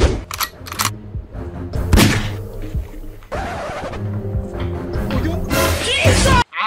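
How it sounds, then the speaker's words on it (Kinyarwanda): Gunfire in ongoing fighting between forces in the Congo conflict with M23, with several sharp broadband bursts and thuds spread irregularly through a noisy field scene, a few nearer and loud. "Iryo riduciye hejuru rikaba ari isasu uriya kandi bakaba bakomeze kurasana."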